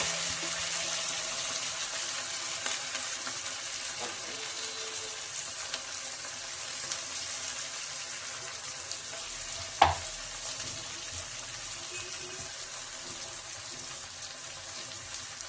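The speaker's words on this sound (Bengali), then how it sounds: "আমি এখন দিয়ে দেবো হচ্ছে সেই টমেটো যেটা কেটে রেখেছিলাম সেইটা, আর যে স্পেশাল রসুন বাটার কথাটা বলেছিলাম দিয়ে দেবো সেটা" Chopped tomato and garlic paste sizzle in a pan for mutton, a steady close frying hiss running throughout with a few light stirring taps and one sharper knock midway.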